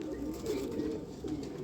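Heavily feathered Parel pigeons kept by a Jammu fancier give a brief, close, rhythmic low cooing in repeated pulses, alone without voices.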